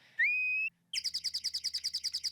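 A player's whistle in Harvest Moon: A Wonderful Life calls a horse: one long rising whistled note, then a quick train of short repeated chirps, clear and close with no talk over it.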